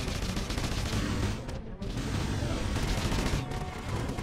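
Kalashnikov guns fire in the space game Freelancer, a rapid, continuous stream of fairly quiet gunshots with a short pause partway through before the firing resumes.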